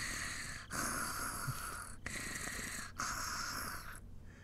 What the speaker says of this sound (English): That's what we call a rare Satoko snore